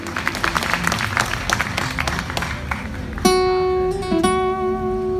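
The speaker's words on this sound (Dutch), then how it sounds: "ik wil een enorm fantastisch applaus" Applause and cheering from a crowd at an outdoor concert on the Marine-terreinen during the Uitmarkt in Amsterdam, dense clapping for about three seconds before steady instrumental music tones take over.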